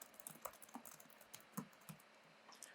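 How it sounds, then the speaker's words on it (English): Light typing on a computer keyboard while entering meeting details, heard as quiet, uneven clicks and taps in a short burst with no talking. "I can type some details about what we're going to talk about"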